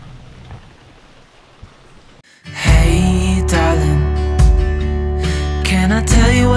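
Soft rain hisses quietly, then a loud rumbling roar of thunder swells in and keeps rolling heavily with sharper cracks.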